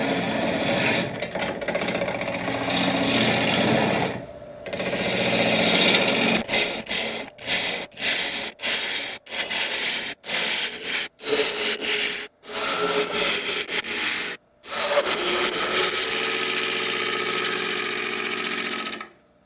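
Wood lathe hollowing out a shallow resin and wood platter, loud scraping cuts in long passes that break into a run of short rhythmic bursts with brief silences, then a long continuous cut again.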